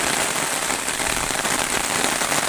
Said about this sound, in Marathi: पाऊस आलाय जोरात.